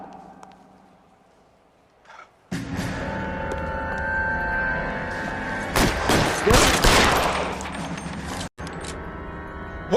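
A heavy fusillade of gunfire in the crime video game L.A. Noire, with dense, rapid shots erupting suddenly after a quiet stretch and continuing loud and sustained, with brief pauses.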